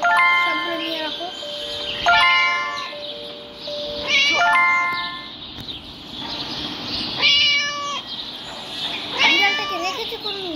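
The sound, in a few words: cat meowing in video game Scary Teacher 3D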